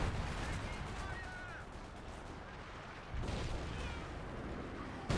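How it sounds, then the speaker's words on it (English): Artillery fire in a video game battle: a continuous low rumbling barrage of distant booms that swells again partway through and surges at the end, with no talking. "There's the artillery"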